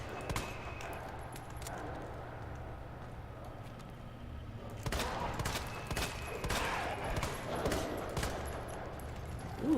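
Shotgun blasts from the video game Resident Evil 2, fired at zombies in a parking garage: several sharp, loud bursts, clustered mostly in the second half, over a low rumbling game ambience.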